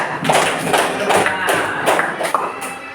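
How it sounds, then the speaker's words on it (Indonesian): A classroom group claps together in steady rhythmic bursts, roughly two or three beats a second, close and fairly loud, with voices mixed in beneath the clapping. "Iya, kasih tepuk tangan semuanya."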